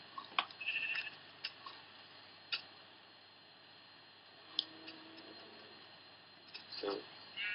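Minecraft sheep bleat several times amid scattered clicks and ticks of game sounds, with quiet background chatter between the calls.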